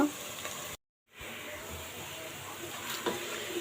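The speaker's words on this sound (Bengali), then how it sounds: "পেস্টটা আমি ব্রাউন কালার করে ভেজে নিব" Spice paste for chicken curry fries in a pan toward brown, giving a close, even sizzling hiss that cuts out briefly near the start and then resumes steadily.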